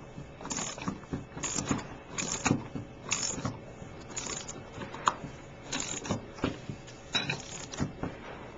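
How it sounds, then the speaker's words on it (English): A ratchet tightens the pulley bolt on a power steering pump, giving repeated bursts of metallic clicking in a regular rhythm, close and moderately loud. "Then you take your ratchet and your wrench. And then just start tightening it."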